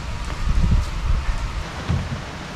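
Steady rain falling with a broad hiss, mixed with low rumbling gusts, continuous and fairly close.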